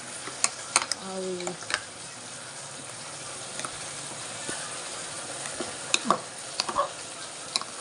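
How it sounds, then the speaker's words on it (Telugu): Onion, ginger and seed paste frying in a pan for chicken curry, a steady loud sizzle throughout with occasional scrapes and clinks of a spoon stirring, close by, with brief speech mixed in. "పచ్చివాసన పోయేటప్పుడు ఫ్రై చేసుకుందాం."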